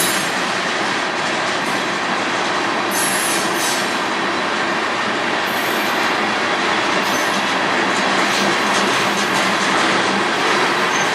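A train rolls past on the Strathroy Subdivision, a loud, steady broadband rumble of railcars with rhythmic wheel clatter and occasional squealing wheels throughout, close by and without talk.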